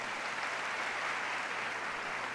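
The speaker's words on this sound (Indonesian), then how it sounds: "Sekali lagi berikan tepuk tangan yang meriah." Church congregation applauding, a steady dense wash of clapping from a large crowd, continuous and fairly distant.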